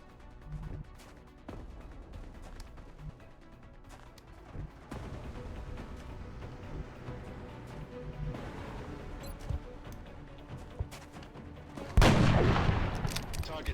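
Heavy gunfire from an alloy cannon in a turn-based tactical combat video game, several booming shots over continuous game sound and music, ending with a loud blast near the end.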